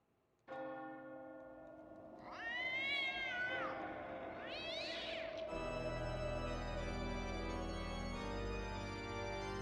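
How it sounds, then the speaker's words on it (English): An angry cat's drawn-out wailing yowls rise and fall twice over a sustained bell-like, ringing musical drone, the cry loud and close while the tonal backdrop continues after it stops. "Somebody's cat is pissed."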